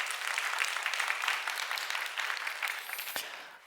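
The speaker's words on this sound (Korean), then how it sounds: "여러분 박수 한번 해주셔야 돼요" A congregation at a Korean church's Wednesday worship service applauds, a wash of many hands clapping steadily at moderate volume before tapering off.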